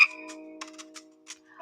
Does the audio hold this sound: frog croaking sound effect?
yes